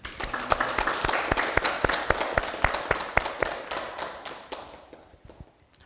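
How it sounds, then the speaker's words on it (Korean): Applause from a crowd of about 160 young people at a Won Buddhist youth dharma talk, a steady patter of clapping hands that gradually thins and fades toward the end. "감사의 박수를 부탁드리겠습니다"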